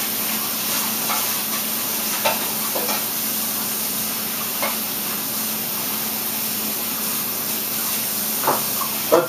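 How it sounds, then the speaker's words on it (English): Wire brush scrubbing a juicer screen, working around the back side then the inside, giving a steady bristly hiss with a few brief sharper scrapes scattered through, close and alone. "You just go around the back side of it first, brush it to push everything out"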